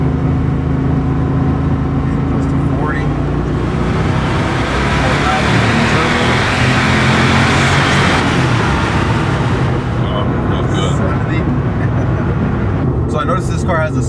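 A Porsche 930 Turbo drives in second gear at about 30 mph and 3,000 rpm, its engine droning steadily and loudly up close with road noise, swelling midway as it pulls, then easing off.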